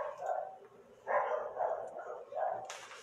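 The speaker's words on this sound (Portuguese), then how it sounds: "É o tempo que os cachorros começam a dar uma latida" Dogs bark in repeated bursts a short distance away, several sharp yaps spread across the moment with quiet gaps between them.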